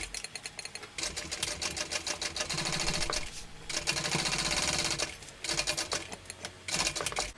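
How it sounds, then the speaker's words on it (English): A sewing machine bastes a straight edge of fabric for a Georgina convertible tote, running in steady rapid bursts with short pauses between them, close and fairly loud. "I'm just going to baste along here at 1/8 of an inch, just at the straight edge"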